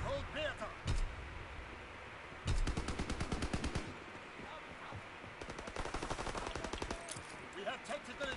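Bursts of automatic gunfire in a WWII multiplayer video game: a sharp burst near one second, a long rapid volley from about 2.5 to 4 seconds and another from 5.5 to 8 seconds, loud over battle noise while players talk.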